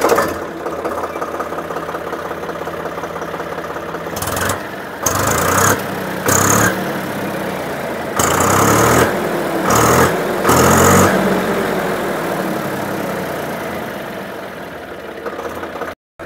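A Swaraj 735 FE 40 HP tractor, 2025 model, idles loudly up close with a steady diesel chug, broken by several brief gaps and level shifts before cutting off at the end.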